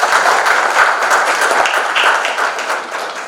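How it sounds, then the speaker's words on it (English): Steady, dense applause from a live audience at a literature festival book talk in Nagpur, a continuous wash of many hands clapping that holds evenly for several seconds without voices. "Can we have a round of applause, please?"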